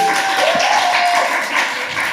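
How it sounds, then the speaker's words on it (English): A music-business panel audience gives a round of applause for a local hero, a loud, continuous crowd clapping wash with a faint tone running through it. "Wee round of applause"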